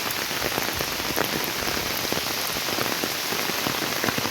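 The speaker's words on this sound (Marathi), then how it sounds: "हा बघा किती मोठा पाऊस आलेला आहे." Heavy rain pours steadily and loudly onto surfaces on a road in the Konkan region, a dense continuous hiss with no voices.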